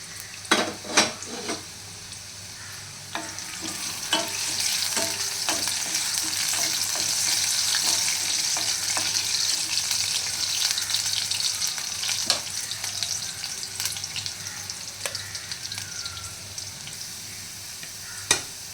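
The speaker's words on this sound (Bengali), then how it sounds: "একটু ঢেকে ভালো করে ভেজে নেব আলুটা" Potatoes fry in oil in a pan with a steady, continuous sizzle, punctuated by scattered clicks and scrapes of a spatula stirring, close and fairly loud with no voices.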